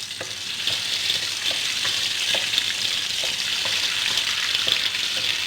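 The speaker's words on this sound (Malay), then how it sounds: "Goreng belacan sekejap" Shrimp paste (belacan) fries in oil, a steady bright sizzle with a few soft spatula taps, close and continuous with no voices.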